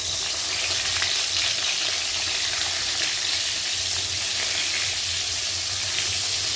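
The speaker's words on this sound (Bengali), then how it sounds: "তেল গরম হয়ে গেছে, আমি এই পটলটা দিয়ে দিচ্ছি" Pointed gourd sizzles steadily in hot oil in a wok, a continuous close, even crackle of frying with no pauses or voices.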